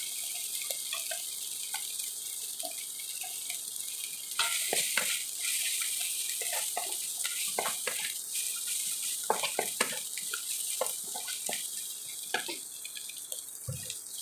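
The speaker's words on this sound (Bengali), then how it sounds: "সবগুলি উপকরণ আমার এখন ভাজা ভাজা হয়ে আসছে" Garlic, ginger, green chilli and ground spices frying in a pan for a pond-fish and bamboo-shoot curry: a constant hissing sizzle with scattered stirring clicks, close and moderately quiet, with no talking.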